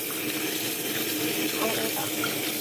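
Strong tap water gushes into a kitchen sink during cooking, a loud, steady, close hiss with no break across the whole stretch.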